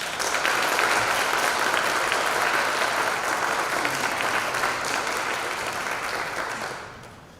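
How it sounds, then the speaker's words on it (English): Sustained audience applause at a university library awards ceremony fills the room as one steady, dense wash of clapping from many hands, holding level for about six seconds before fading out at the end. "let's give a final round of applause for our Spring 22 CARE Award recipients"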